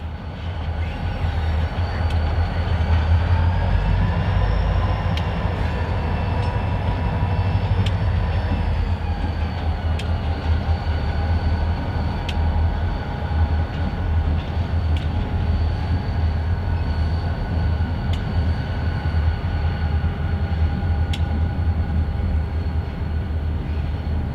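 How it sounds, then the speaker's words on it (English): Kansas City Southern freight train of the Gulfport Turn, led by older EMD diesel locomotives, rumbling steadily and loudly past with a deep engine drone and wheel noise throughout, no talk. "The Gulfport Turn has become a favorite among rail fans as it typically uses older EMD power."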